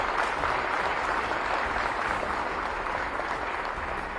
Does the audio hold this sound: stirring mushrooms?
no